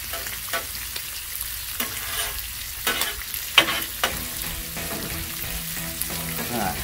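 Sausage fries on a griddle with a steady close sizzle, broken by several sharp spatula scrapes and taps at irregular intervals.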